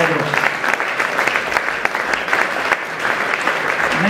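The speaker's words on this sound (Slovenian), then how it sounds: "tako da vseeno pa sta si zaslužila aplavz" An audience at a youth sports awards ceremony claps steadily in dense, sustained applause filling the room, fairly loud and close, with no voices over it.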